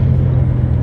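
A car engine, likely an Audi S8, holds a steady, dense low rumble at high revs for under a second, loud and close with no voices over it.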